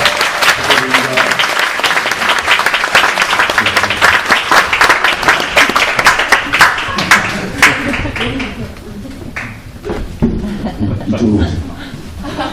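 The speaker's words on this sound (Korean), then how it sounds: "큰 박수 부탁드리겠습니다" An audience at a theatre award ceremony claps loudly in sustained applause as a winner comes forward, thinning out toward the end, with scattered chuckles and voices mixed in.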